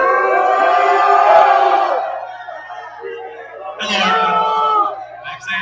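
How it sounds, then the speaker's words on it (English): A crowd at a community gathering boos a speaker, with loud drawn-out vocal swells rising and falling, then a second burst of jeering voices after a brief lull. "they booing that white man"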